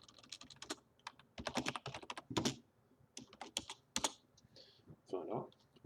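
Quiet typing on a French computer keyboard in irregular bursts of clicking keys, close and soft, with pauses between runs of keystrokes.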